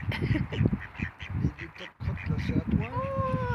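Wild ducks, including a green-headed male, quack in close, rapid bursts of harsh calls with brief pauses between, and someone talks over and between the calls.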